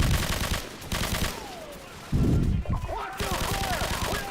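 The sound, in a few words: gunfire in a video game campaign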